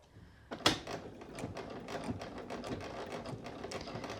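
A sewing machine runs a straight stitch at 4 mm length on a hoodie near a zipper, starting with a sharp clack and then ticking in a quick, even mechanical rhythm, close and fairly quiet.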